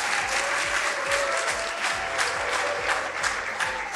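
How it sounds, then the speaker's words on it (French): A studio audience claps in a steady, full round of applause that holds at an even level throughout, with faint rhythmic low thumps beneath the clapping. "Public, on va les applaudir encore."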